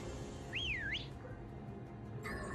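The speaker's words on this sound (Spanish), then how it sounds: "pues este es el agudo reclamo. Un silbido." A game character in Pokémon Sword whistles to call Pokémon, a single clear rising-and-falling whistle lasting about half a second over steady game background music, no voices.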